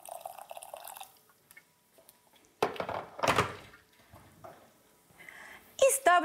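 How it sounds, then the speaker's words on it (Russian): Water, about 60 ml, splashes into a small saucepan holding 200 grams of sugar, a brief close pour with a few drips and light knocks against the pan, in an otherwise quiet kitchen. "200 граммов сахара вот в ковшик и сюда же 60 миллилитров воды"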